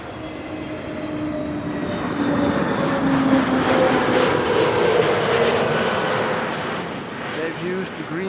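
Transavia airliner at Amsterdam Schiphol, a loud, steady engine roar that swells toward the middle and then eases slightly, with people talking over it.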